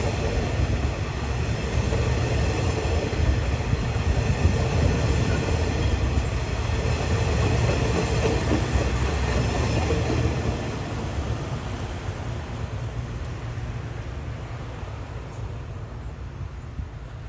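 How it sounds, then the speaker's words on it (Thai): Thai special express train 31 to Hat Yai, hauled by a QSY locomotive, passes a level crossing south of Ban Pong station with a loud, close, continuous roar and rumble of wheels that eases slightly toward the end. "กำลังผ่านที่กั้นนะครับทางด้านใต้ของสถานีบ้านโป่งนะครับ สำหรับขบวนด่วนพิเศษทักษิณารัฐที่ 31"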